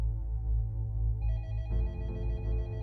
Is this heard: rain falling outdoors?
no